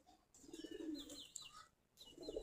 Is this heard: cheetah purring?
no